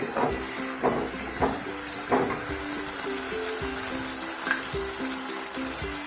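Egg curry masala with garlic, ginger and cumin pastes sizzles as it is sautéed and stirred in a pan. The frying hiss stays steady and close, broken by a few brief scraping stirs.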